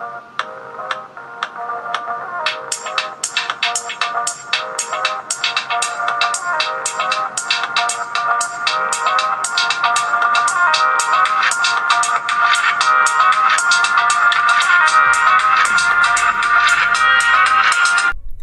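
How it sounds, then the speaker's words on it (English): Music plays through the small built-in speaker of a TicWatch Pro 4G/LTE smartwatch, a thin, bright melody with quick ticking beats, steady and fairly loud with no talk. "we can even listen to music on the watch"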